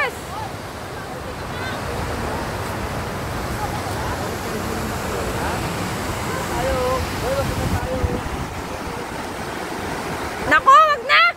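Fast, heavy river water rushes steadily over the Balanac River Dam in Pagsanjan, Laguna, a loud continuous roar with a brief burst of nearby voices near the end.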